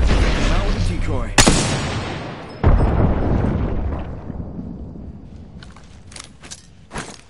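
A frag grenade explosion in a video game, a loud booming blast with a long decaying rumble, followed by a second sharp hit and scattered crackling shots as the noise fades.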